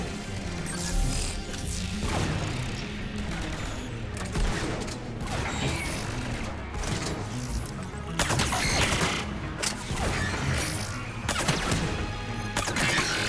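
Pistol gunfire in the video game Mass Effect 3 rings out amid a dense, loud combat mix of crashing impacts and repeated shots, with heavier bursts in the later stretch.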